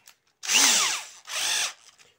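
A power drill boring through glass or a mirror, two loud whining bursts with a short pause between, each rising and falling in pitch, heard close and alone.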